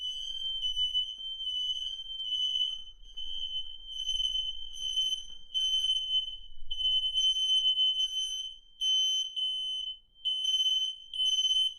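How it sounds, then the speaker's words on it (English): Piercing high-pitched wired, interconnected smoke detectors beep in rapid repeating bursts, several units sounding together, loud and continuous with brief gaps near the end. "One good thing about the wired smoke detectors is that when one goes off"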